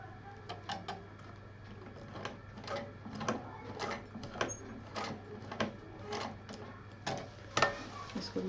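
A sewing machine stitches a fabric pouch with piping, its needle ticking in quick, rhythmic bursts. The stitching is quiet and close over a low steady hum.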